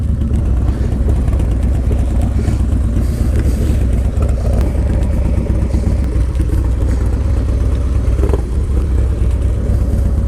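A cruiser motorcycle, a Harley-Davidson Low Rider S or Yamaha Warrior 1700, rumbles loudly and continuously while riding nearby, a heavy low engine drone with clattery texture and no voices.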